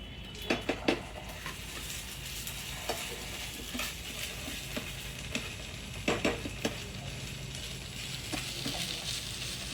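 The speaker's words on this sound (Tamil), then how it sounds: "இஞ்சி பூண்டு விழுது போட்டு நல்லா அந்த பச்சை வாசனை போகிற வரைக்கும் கொஞ்சம் வதக்கணும்" Ginger garlic paste sautéing in a pan for squid fry, a continuous close sizzle broken by clusters of sharp spoon scrapes and clinks against the pan.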